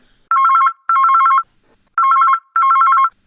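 A telephone rings for a phone-in call during a municipal affairs broadcast, sounding four clear electronic trilling bursts in two pairs, loud and isolated with silence between them.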